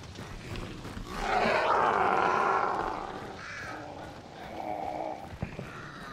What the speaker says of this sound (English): those crows. Well, now they make noise.